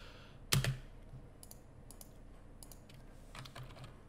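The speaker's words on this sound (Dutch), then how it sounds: "je kan hier tekst typen" Typing on a computer keyboard, a sharp loud keystroke followed by scattered soft, quick key clicks in small bursts, close and quiet, no voices.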